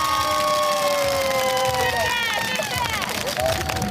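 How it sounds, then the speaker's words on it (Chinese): Roadside crowd screaming and cheering at an Olympic heroes' parade in Taipei, a dense continuous roar of voices with high shrieks rising over it, loud and close throughout. "冲到路边尖叫欢呼。"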